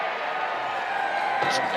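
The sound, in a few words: stadium crowd cheering after successful rugby league conversion kick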